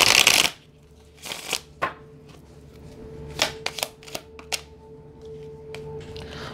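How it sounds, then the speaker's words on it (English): A deck of tarot cards being shuffled by hand: a sharp riffle burst at the start, then scattered quick card slaps and flutters, close and fairly loud, with no voices. "All right, so I'm going to pull cards of all of these here."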